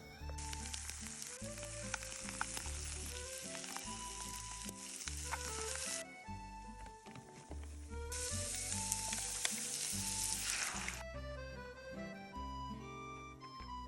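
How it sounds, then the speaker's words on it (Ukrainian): Boiled porcini mushrooms fry with onion in a pan, a bright sizzling hiss that swells and drops in sections, heard beneath prominent melodic music. "Я їх відварила і зараз буду обсмажувати разом з цибулькою, ну, робити підливку."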